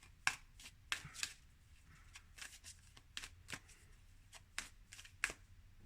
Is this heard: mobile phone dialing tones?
no